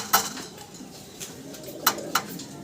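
Magpie and Danish pigeons rustle and flutter in a cage, with a few sharp clicks and scrapes of wings or feet against wire over a low background murmur.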